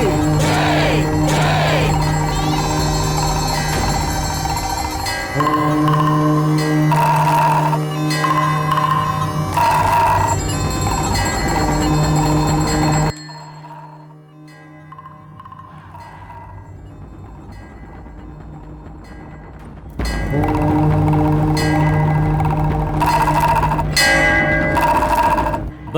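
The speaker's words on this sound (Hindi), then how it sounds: "घंटी और नगाड़ा बजाओ।" Temple bells and a nagada drum ring together during a puja in a dense, loud clangor of repeated metallic strikes. The sound drops away for several seconds midway and then resumes just as strongly.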